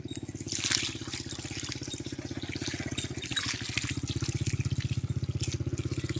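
Water runs steadily onto loose soil at the base of a durian tree, a continuous close trickle with a faint regular pulsing underneath and no talking.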